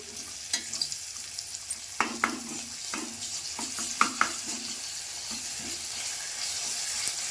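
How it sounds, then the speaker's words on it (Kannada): Ginger garlic paste frying in a pan for rice bath, a soft steady sizzle under scattered scraping and stirring clicks of a spoon against the pan. "ಇಲ್ಲಿ ಇವಾಗ ಶುಂಠಿ ಬೆಳ್ಳುಳ್ಳಿ ಪೇಸ್ಟ್ ಹಾಕ್ಕೋತಿದ್ದೀನಿ"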